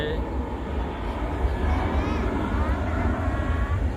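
Thai Airways airliner accelerating down the runway for takeoff, a steady, loud engine roar with rising whine, heard from a distance with wind buffeting the microphone and a voice faintly present.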